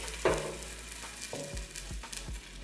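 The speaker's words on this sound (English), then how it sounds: "you hear that sizzling?" Chicken wings sizzle in a hot Instant air fryer basket, a faint crackling hiss broken by a few soft thumps and clicks as pieces are placed in, with no voices.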